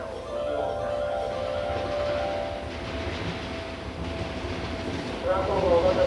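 A Seibu New 2000 series express train running from Hon-Kawagoe toward Seibu-Shinjuku, heard from inside as a steady rumble with a sustained motor whine, swelling louder near the end.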